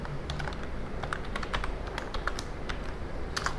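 Fairly quiet keystrokes on a computer keyboard as Python code is typed, irregular clicks and taps in quick bursts with no talking.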